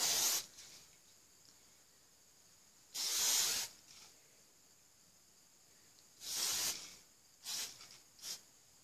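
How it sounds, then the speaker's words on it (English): Hairspray sprayed onto hair in several short hissing bursts, close and clear, separated by quiet gaps, with a couple of quicker puffs near the end. "I think that's enough hairspray."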